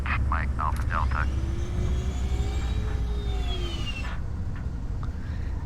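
Aircraft engine in Flight Simulator X drones steadily as the plane descends to land at a Hawaii runway, a loud continuous hum with a slowly shifting whine; brief chirpy sounds early on.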